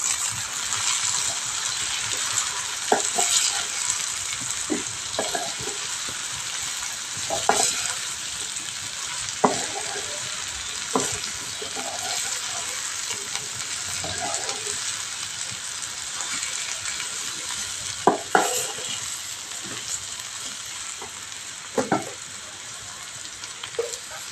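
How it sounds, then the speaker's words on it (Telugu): Curry with chili powder is stirred in a frying pan, a continuous sizzle under repeated scraping and clinking of a metal spoon against the pan, with a few sharper knocks standing out. "కొద్దిగా కారం కారం ఒకసారి మూడు కలిసేలాగా మనం ఒకసారి అయితే కలుపుకోవాలి"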